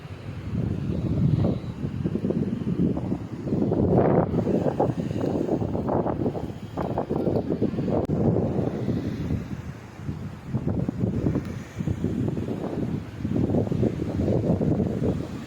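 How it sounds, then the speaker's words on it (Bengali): Gusty sea breeze buffeting the microphone in rising and falling rushes, with a faint wash of surf underneath, at a beach resort in Mandarmani, India. "ঠান্ডা ঠান্ডা হাওয়া দিচ্ছে, সমুদ্রের হাওয়া।"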